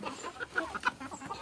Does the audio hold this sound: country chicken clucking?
yes